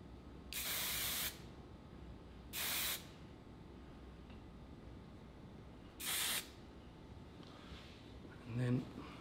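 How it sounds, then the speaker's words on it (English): Hairspray from an aerosol can hissing onto styled hair in a salon, three separate sprays of about half a second to a second each, fairly close, with a faint brief thump near the end. "Fix the hairspray."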